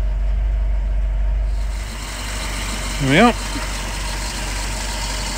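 A 1967 Citroen DS 21 Pallas with its 2.1-litre four-cylinder engine idles steadily under the bonnet, a low continuous rumble; someone speaks briefly partway through.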